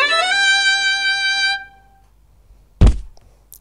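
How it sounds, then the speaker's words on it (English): In a Daniel Tiger's Neighborhood Christmas video game, a bowed violin note sounds loud and rich with slight vibrato for about a second and a half. After a pause a dull thunk follows, and there is no speech. "There's a violin."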